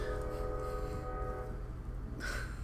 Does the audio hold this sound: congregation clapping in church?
no